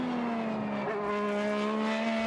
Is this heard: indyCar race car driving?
yes